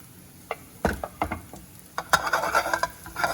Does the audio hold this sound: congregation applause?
no